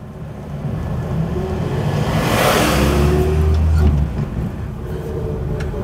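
A big army truck passes close by a small vintage Vauxhall car, its deep engine rumble swelling to a loud peak mid-way and then easing off, with no talk.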